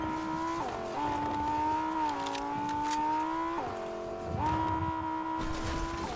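Car engine in the Fortnite video game, revving high and steady while drifting around corners, with pitch dipping and climbing at each gear or corner change and brief tire squeal, loud and continuous with no talk.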